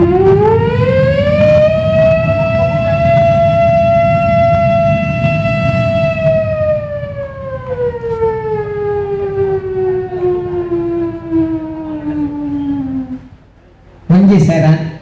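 A mimicry artist's voice imitates a factory siren: one long, loud wailing tone that holds steady, then slowly sinks in pitch and fades, with a short sharp burst right at the end.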